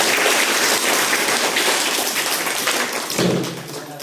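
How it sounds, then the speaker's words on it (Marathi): A crowd of spectators claps steadily at a zilla parishad school dance event in Kalamgaon, where students performed a Tarpa dance. The dense, continuous applause stays loud and fairly even for about four seconds. "टाळ्या वाजवा"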